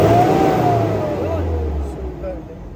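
A car engine revs during an RPM check, its pitch climbing and falling over a few seconds, close and fairly loud, with a low steady rumble beneath.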